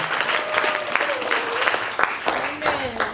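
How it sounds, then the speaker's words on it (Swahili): Church congregation clapping hands in praise, steady crowd applause under a preacher's raised voice, with scattered louder claps standing out. "Pigia Bwana makofi. Piga mikono kwa Yesu"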